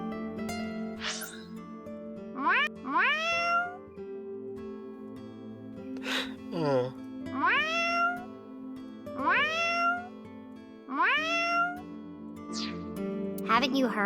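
In the video game AI: The Somnium Files, a character meows repeatedly at a lucky cat statue, a series of rising cat-like meows spaced a second or two apart over background music, with a voice imitating the cat.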